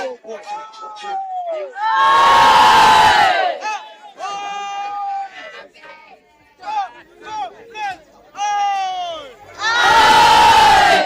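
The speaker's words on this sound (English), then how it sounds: "The crowd goes wild." A school rugby crowd at a Lomagundi versus Churchill first-team match erupts in two loud bursts of cheering and roaring, with shouting and chanting voices between them, close and full.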